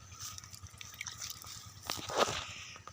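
Water drips and splashes while rice is being washed, with a few soft, irregular drops and wet squishes close by and a slightly fuller splash near the end.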